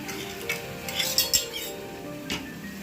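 Cooked rice, lentils and vegetables are mixed in a pot with a spoon, a few soft clanks and scrapes of metal on metal clustered close together, then a last knock after a short pause.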